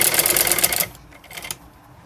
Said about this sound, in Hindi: अच्छे से हमें इसके ऊपर सिलाई लगानी है अपनी